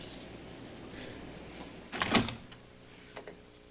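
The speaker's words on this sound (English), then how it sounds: "I open the bedroom door in the morning" A bedroom door opens in the morning with a brief creaking, sliding sweep near the middle, followed by a faint squeak and light clatter, close and moderately loud in a quiet room.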